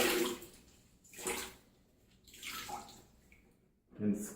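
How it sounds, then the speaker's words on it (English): A grout sponge is dunked in a bucket of clean water and wrung out, giving several close sloshing and trickling bursts separated by quieter pauses. "I'm going to take this sponge, put it in the clean water,"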